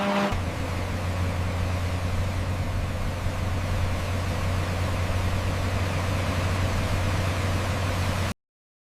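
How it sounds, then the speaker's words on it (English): Heavy haulage trucks carrying harvested sugarcane at a cane sugar factory give a steady, loud engine drone with a low hum that holds unbroken throughout. "Once harvested, the sugarcane is loaded into massive haulage trucks, ready for transport to the processing factory"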